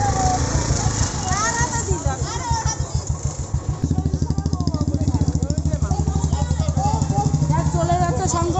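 A motorcycle engine idles with a fast, even chugging throb, close and loud, while several people talk over it.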